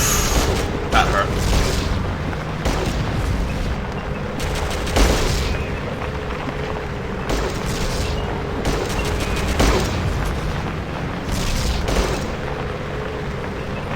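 Gunfire and explosions in the Fallout Tactics video game: a run of sharp booms and shot bursts recurs every second or two over a dense, steady battle din.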